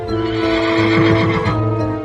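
An armoured horse at a joust gives a loud, close neigh, a sustained whinny that wavers and shakes in pitch midway before fading slightly at the end.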